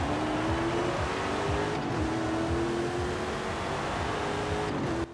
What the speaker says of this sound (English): I'm actually quite impressed with the engine sound and all the and of course all the engine upgrades I put in it